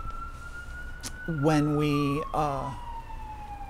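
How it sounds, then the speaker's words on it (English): An emergency vehicle siren wails with a long, slowly falling tone at moderate distance, while a brief burst of speech cuts in over it partway through. "You know, I always think of sirens."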